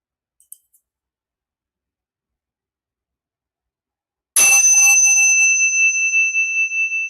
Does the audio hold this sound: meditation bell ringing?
yes